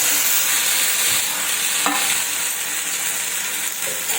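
Ingredients for green chili chutney, with jaggery and coriander, fry in hot oil, making a close, constant hissing sizzle with a faint scrape or two of stirring and no talking.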